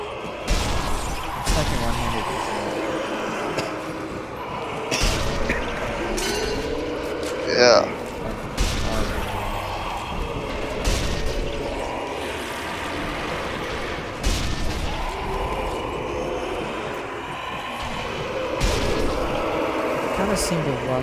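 Sniper rifle shots ring out in the Sniper Elite: Nazi Zombie Army video game, with repeated sharp reports and mechanical clinks at irregular intervals under someone talking and game music.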